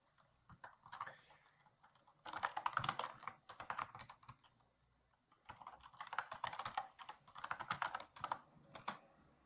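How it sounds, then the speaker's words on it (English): Someone types a command on a Windows computer keyboard in two quick bursts of clicking keystrokes, close but fairly quiet, with a short pause between them. "After that, you can type in this command, Symfony check requirements."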